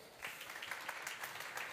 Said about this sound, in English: Big applause to Reinhard Lanner and Hartmut Wimmer.